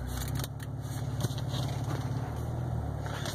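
A salvage-repairable 2014 Cadillac ATS rear-wheel-drive V6 on a short drive, heard from inside the cabin as a steady low engine and road drone with faint clicks and rattles, no talk.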